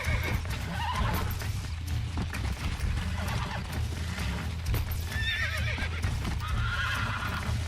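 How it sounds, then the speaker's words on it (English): A horse neighs and whinnies loudly while its hooves clatter in Red Dead Redemption during a horse-breaking scene, the calls rising repeatedly over a low rumbling game soundscape. "Giddy up, horsey"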